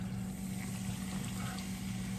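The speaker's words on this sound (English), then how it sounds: "I'm gonna pour one can, all the contents of one can in here." Coca-Cola from a can poured into a cooking pot, a steady continuous liquid rush with a low hum running evenly throughout.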